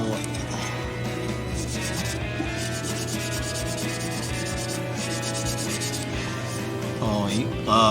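400-grit sandpaper rubs across the surface of a 1/100 scale Volks IMS Knight of Gold model kit, a steady close scratchy rasp that continues throughout, with a mechanical hum underneath.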